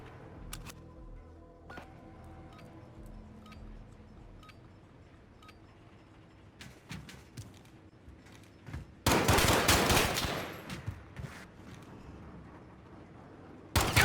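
Rapid bursts of M19 pistol fire in a 1v1 video game gunfight, loud and dense for several seconds after a quieter stretch of faint clicks and shots, with a final burst at the end.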